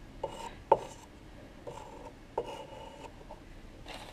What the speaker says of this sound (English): Once we're all stirred up, scrape off the excess glaze.